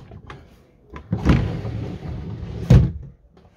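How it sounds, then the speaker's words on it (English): Door on a 2024 Mobilvetta Design motorhome at a trade fair, opened and shut with two firm thuds about a second and a half apart and a rattling rush between them, close by with no talking. "a door. Let's see if it works."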